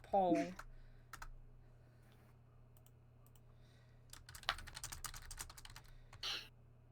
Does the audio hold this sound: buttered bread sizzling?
no